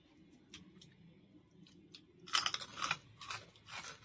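Crispy Thai pork rinds (khaep mu) are bitten and chewed up close, with several dry crunches in a quick cluster after a few soft clicks, and no talk over them.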